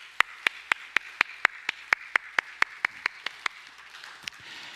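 A congregation at a Sunday church service gives encouraging applause, heard as about a dozen crisp, evenly spaced claps in a steady rhythm that thin out toward the end.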